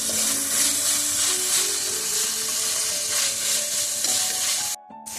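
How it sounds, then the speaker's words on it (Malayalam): Ginger garlic paste sizzles loudly in a pan with softened onion for a brinjal masala curry, a steady frying hiss with stirring scrapes, briefly cut near the end. "പേസ്റ്റ് ഇട്ട് കൊടുക്കാം"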